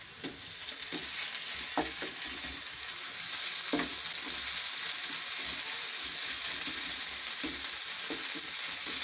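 Green chili and ginger paste frying in an egg gravy masala, a steady close sizzle with occasional scraping clicks of a spoon against the pan, no talking.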